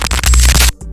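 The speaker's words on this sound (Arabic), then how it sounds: "جليتش" Glitch sound effect: a dense burst of harsh crackling, stuttering digital noise, loud and close, cutting off abruptly after most of a second and leaving a brief faint tail.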